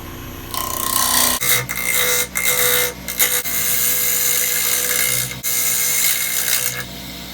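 A wood lathe spins a warped, twice-turned bowl while a gouge cuts to true up its rim, giving a loud, close, continuous whirring hum broken by abrupt chattering cuts.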